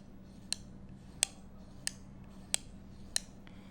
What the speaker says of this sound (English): the focusing, it's really smooth. You can just do it by one finger and you can hear the stops.